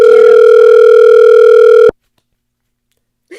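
A steady, loud telephone dial tone drones for about two seconds when placing a call, then cuts off abruptly into silence before a brief faint sound.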